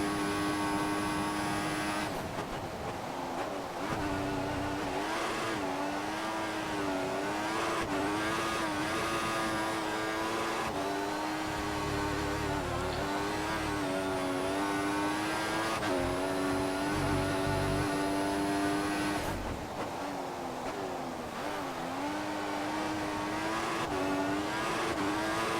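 A Formula One race car in F1 2014 howls at high revs, its engine pitch rising and falling through repeated gear changes, with brief tyre squeals and skids. The sound is loud and sustained with no talking.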